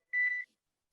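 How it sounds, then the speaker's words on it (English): A kitchen timer gives a single short, clear electronic beep, alone in a quiet room during home cooking. "I hear the timer going off"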